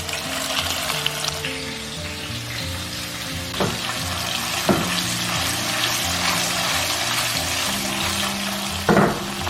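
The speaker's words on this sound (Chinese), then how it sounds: "小火慢炸" Pork slices frying in a little oil in a wok over low heat, a steady close hiss and crackle throughout, punctuated by a few sharp clinks of a utensil, with no talking.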